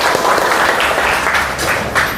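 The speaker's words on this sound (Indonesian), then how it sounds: "Oke, tepuk tangan buat kalian." Students in a school classroom clap together in steady, dense applause at close range, continuing without talk for about two seconds.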